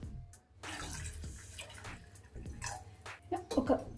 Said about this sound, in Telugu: ఇప్పుడు ఇందులో కొన్ని వాటర్ వేసుకున్నాము.